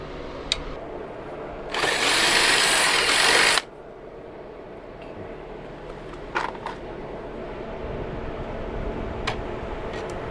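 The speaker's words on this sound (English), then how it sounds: "I will just use this drill bit" A power drill with a 1/4 inch bit whirs in one loud burst of about two seconds while installing a running board on a 2024 Sprinter van, followed by quieter clicks and handling noises.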